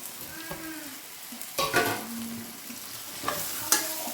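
Potatoes with tomato and turmeric stirred in a pan, a low sizzle broken by several sharp scraping and clanking spoon strokes against the metal, close by and without speech.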